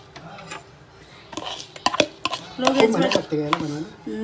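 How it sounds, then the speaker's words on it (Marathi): Grated coconut roasts in a pan for karanji, a spoon scraping and clinking against the metal in uneven strokes, fairly close, with quiet sizzling and a brief voice. "आता आपण खोबरं भाजून घेतोय"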